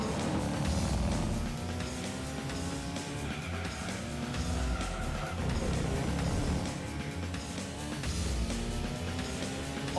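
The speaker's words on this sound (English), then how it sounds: "it's using the GT2 engine sound effect" Honda NSX engine in the Gran Turismo 3 racing game, a synthetic engine tone rising and falling through repeated revving sweeps and gear changes, steady and moderately loud.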